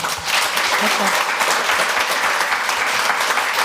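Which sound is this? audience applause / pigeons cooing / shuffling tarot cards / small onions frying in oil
audience applause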